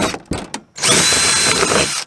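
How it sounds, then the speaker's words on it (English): A power drill bores out two rivets holding an old marker light fixture on a pop-up camper, with short bursts at first and then a steady, loud whine close by. "The first thing I'm going to do is drill out these two rivets that hold the old fixture"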